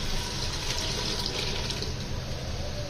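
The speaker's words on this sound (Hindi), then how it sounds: "ये हमने इसके अंदर ऐड कर देनी है" Chickpea stock poured into a cooking pot of black chickpea curry gives a steady, full rush of liquid that runs close and continuous without a break, with no voices.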